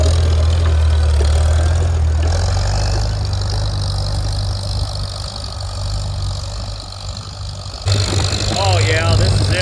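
Farmall Super C tractor engine running steadily in third gear during field work, a loud continuous low rumble throughout with a shift in tone partway and a brief change near the end, no talking.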